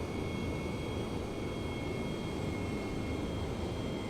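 Steady roar of an F/A-18 jet engine in the flight simulator IL-2 1946 during a carrier landing approach, a broad, unbroken whoosh with a faint high whine, heard alone.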